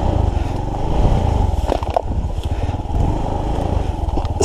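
A Suzuki GD 110 motorcycle engine putters steadily and close while riding a forest trail, with a continuous low, throbbing drone that rises and dips slightly with the throttle.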